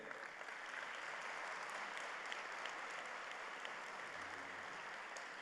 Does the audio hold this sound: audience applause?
yes